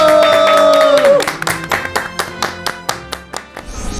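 A studio audience at a Korean talk show on traditional medicine claps in an even, rhythmic beat right after a short musical sting, the claps fairly close and distinct.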